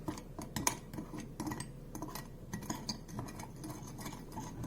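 Blueberry pie filling being mixed with cinnamon and sugar in a bowl, with a steady run of soft spoon scrapes and light clinks against the bowl, close and moderately loud, with no talking.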